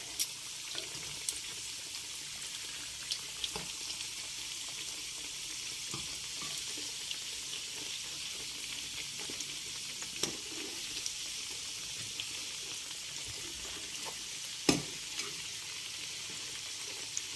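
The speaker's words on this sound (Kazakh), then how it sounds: "Екінші жағын аударып, қызартып қуырам." Flatbread made with ayran and egg frying on its second side in a pan, a soft continuous sizzle with occasional faint clicks, quiet and close with no talking.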